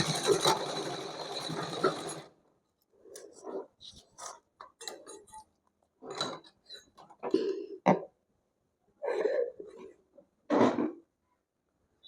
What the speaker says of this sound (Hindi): और इस तरीके से करते हुए इस तिरछे में ऐसे सिलाई लगा देंगे।